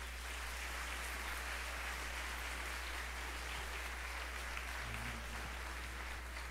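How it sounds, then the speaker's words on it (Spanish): Theatre audience applauding at a carnival queen election in Mazatlán, a steady, fairly faint wash of clapping that fills the whole stretch without a break. "Un fuerte aplauso para ellos."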